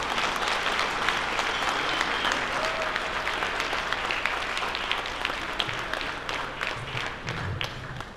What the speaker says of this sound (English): Could you please give us a warm welcome applause?